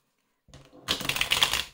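Oracle cards being shuffled by hand: a short, close burst of papery riffling and rustling that starts softly and grows denser for about a second, with no voices.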